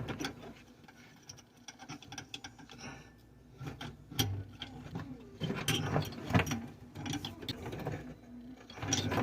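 Plastic water filter cartridge being twisted and tightened into an under-sink housing for a 3M Filtrete Maximum system, giving close, irregular creaks and ratchety clicks with scattered handling knocks.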